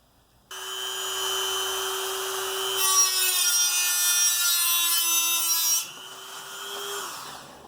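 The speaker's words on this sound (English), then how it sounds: "Let's get out the Dremel." A Dremel rotary tool cutting into wood for a van sink build, giving a steady high-pitched whine that grows harsher and grindier midway, then eases and winds down after about seven seconds.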